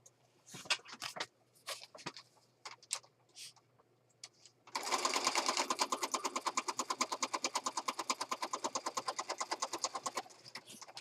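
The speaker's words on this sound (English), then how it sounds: "All right, let's stitch this." A sewing machine stitches through handmade horse-themed journal pages, starting after a few scattered handling taps and running as a steady, close, rapid mechanical chatter for about six seconds before stopping.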